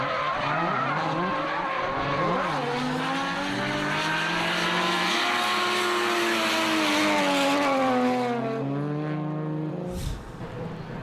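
Drifting Nissan 180SX and privateer rotary Mazda FC RX-7 battle at a D1NZ round at Manfeild Circuit, engines loud and continuous with rising and falling revs, tyre squeal layered over the roar, then a sudden drop near the end.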